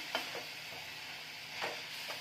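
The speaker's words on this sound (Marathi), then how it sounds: "झाकण काढून भाजी अशी थोडी मध्ये मध्ये हलवायची आहे" A pan of shepu (dill) bhaji stirred on the stove, soft scraping strokes of a spoon through the greens over a quiet continuous sizzle, heard up close and alone.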